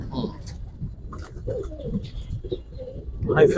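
Pigeons in a loft, a mix of giribaz and colouring breeds, coo in low bursts throughout, with someone talking over them and louder rustling and calls building at the end.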